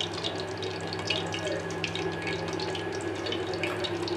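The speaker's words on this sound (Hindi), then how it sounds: "तेल हमारा गरम हो चुका है, अब हम इसको फ्राई करेंगे।" Stuffed okra (bhindi) and green chillies filled with spice mix fry in hot oil, giving a steady, moderate sizzle and crackle that continues evenly without pause.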